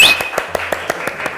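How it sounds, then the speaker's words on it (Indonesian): A small Indonesian talk-show studio audience claps on request, a quick run of about eight sharp, evenly spaced hand claps, close and fairly loud. "Tepuk tangan dong"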